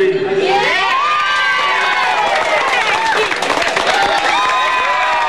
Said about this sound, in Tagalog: panay pa ang palakpak sa tuwing binabanggit ang pangalan ni Binay sa proklamasyon